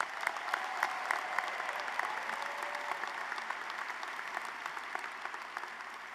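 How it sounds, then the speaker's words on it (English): Audience applauding graduates at a spring college commencement for education, health and human sciences, a steady, even wash of clapping from a large crowd that holds level throughout. "please join me in giving all these graduates a round of applause"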